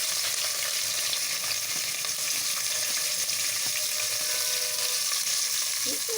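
Sliced onions and green chillies for chicken biryani fry in hot oil, making a dense, steady, close sizzle that keeps going without a break, with faint stirring sounds now and then.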